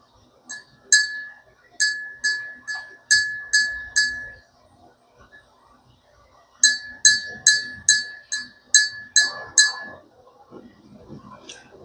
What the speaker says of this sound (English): Let's clap the bell for that.